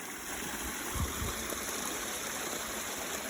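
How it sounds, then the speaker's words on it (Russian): A mountain stream runs over a washed-out road, giving a steady rushing and gurgling flow with no voices. "В ручье очень много воды."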